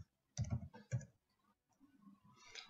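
Quiet typing on a computer keyboard in a university library setting: a short cluster of clicks, a pause, then a few softer taps, close and faint.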